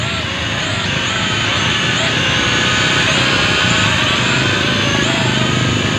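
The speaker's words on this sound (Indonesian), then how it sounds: "Ini dia drone-nya, drone seimbang, sangat seimbang tuh, cuman lari-lari sedikit," Mavic Vro budget camera drone flying outdoors against the wind, a steady high-pitched whining buzz of small propellers held near and loud throughout, with faint talk underneath.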